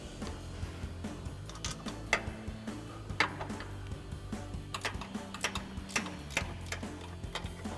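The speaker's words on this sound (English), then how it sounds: "So we've got our 15 mil ratchet wrench. We're gonna go ahead and loosen these up." A 15 mm ratchet wrench loosening strut bolts on an F-150 front suspension during a leveling kit install, giving a run of quick, close metallic clicks and ticks in irregular bursts over a low steady hum.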